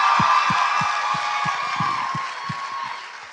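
A live audience at a podcast show cheers and applauds in a dense, steady wash of clapping and whoops that fades slightly toward the end.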